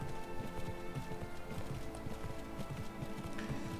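Mount hooves pounding in a video game, with a moose mount running at a steady galloping rhythm of repeated clip-clop hoof beats, close and even over a faint background tone.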